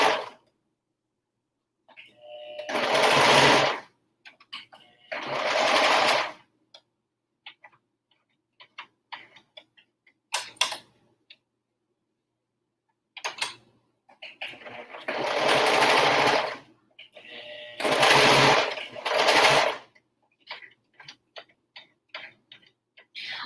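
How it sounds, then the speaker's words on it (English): Home sewing machine worked with a foot pedal, stitching in several loud bursts of a few seconds each, with short quiet pauses and faint ticks between runs; nobody talks. "it's not as easy on the home sewing machines with the pedal"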